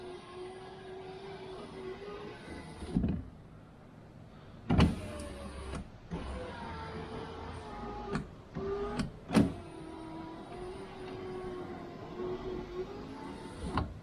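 Repaired electric car window motor running up and down a few times, a soft whirring hum in a quiet interior, with short pauses and a few clunks as the glass stops at the end of travel.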